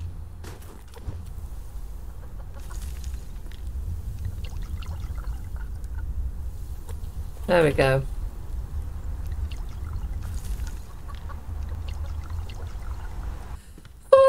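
Water is poured for chickens in the survival game Subsistence, a short trickling splash in the middle of the clip. Someone talks briefly before and after it over a low background hum.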